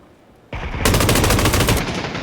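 Automatic gunfire rings out in the PUBG video game, a single loud shot followed by a dense, rapid burst of rounds that keeps going for over a second, sudden and close.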